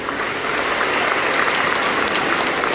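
A crowd at an honour ceremony held by a Patel social group in Gondal breaks into loud, sustained applause, dense overlapping claps filling the hall without a break.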